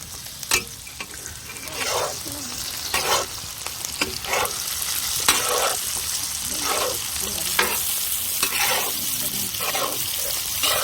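Tomatoes frying in a pan after softened onions, a loud continuous sizzle with repeated scraping stirs of a spoon, close and steady throughout.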